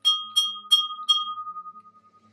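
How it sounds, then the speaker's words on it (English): A small Easter bunny bell with a daffodil print rings four times in quick succession, each bright ding close and clear, leaving a pure ringing tone that slowly fades. "But it is a bell."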